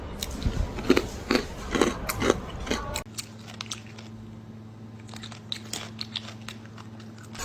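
Close-up chewing of a sweet, crunchy Chinese snack similar to corn nuts or chickpeas: several loud, sharp crunches at first, then quieter, scattered chewing over a low steady hum.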